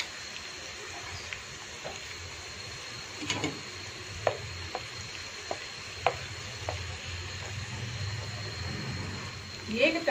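Whole round red chillies frying in hot oil for a tempering, eight to ten dropped in for sarson ka saag, a steady soft sizzle with occasional light clicks and stirring taps, close and fairly quiet.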